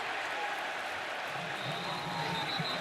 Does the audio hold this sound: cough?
no